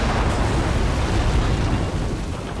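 Ace Combat missile launch and explosion: a loud, continuous roaring blast with a dense broadband rumble that holds steady throughout.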